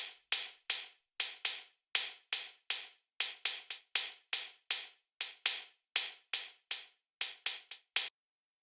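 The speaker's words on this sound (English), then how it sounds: "And we have another percussion over here which sounds like this." Afro House percussion sample played in Logic Pro: a steady, tightly repeating pattern of crisp, bright hits, about two or three per second over eight seconds, each with a short decay, clean and alone with no talk.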